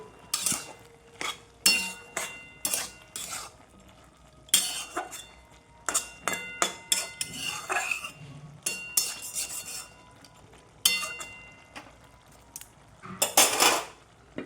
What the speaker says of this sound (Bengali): জোরটা কমিয়ে দেবো আর দুবার নেড়ে দেবো